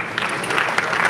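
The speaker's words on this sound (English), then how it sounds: "Oh, got a big clap there." Audience applause at a real estate marketplace conference in Lagos, a dense, steady wash of clapping from a crowd that holds for the whole moment without pause.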